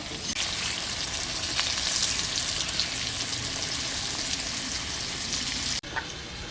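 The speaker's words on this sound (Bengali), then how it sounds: "আমি আলুগুলোকে আগে ছাকা তেলে ভালো করে ভেজে নেব" Potatoes deep fry in plenty of hot oil, producing a loud, steady, close bubbling sizzle that runs throughout with one brief break near the end, with no voices.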